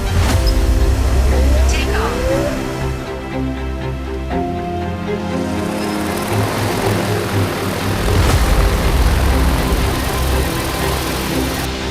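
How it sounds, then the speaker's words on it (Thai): A DJI Kubota T20 Pro agricultural spraying drone flies over farmland, its rotors producing a loud, steady droning buzz that shifts in pitch as it moves, while someone talks over it. "โดรนการเกษตร DJI Kubota T 20 Pro"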